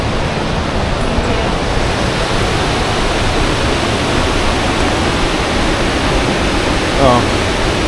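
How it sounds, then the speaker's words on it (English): Steady, loud rush of a waterfall in the Lauterbrunnen valley near Tanzbödeli, Bernese Oberland, a continuous broadband roar filling the whole stretch with a brief faint voice near the end. "Oh, just another waterfall."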